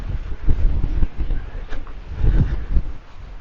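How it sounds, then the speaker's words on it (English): Strong gusts of wind at the Ring of Brodgar standing stones in Orkney buffet the microphone in low, rumbling surges, rising and falling close up with no voices. "It is just so windy everywhere."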